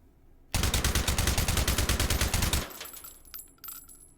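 A suppressed SCAR Mk 17 Mod 0 rifle fires in the H3VR game, loud and close: a dense two-second burst of rapid shots followed by a few faint clinks and a fading tail.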